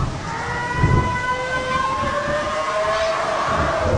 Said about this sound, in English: That doesn't sound like a freight train.